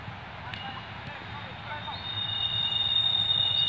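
A light rail train passes a baseball field at Jakabaring Sports City, Palembang, as a low rolling rumble that builds steadily while a thin, high wheel squeal rises over it.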